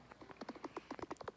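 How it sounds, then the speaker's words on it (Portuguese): Horse hooves clip-clopping while riding in the video game Attack on Titan, a quick regular run of hoofbeats, fairly faint, with no talk over them. "Tô andando no meu cavalo"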